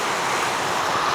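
Rainwater runs through a channel past a metal roofing sheet at a small farm during rain, heard as a steady broadband rushing and splashing wash, close and continuous, with no voices.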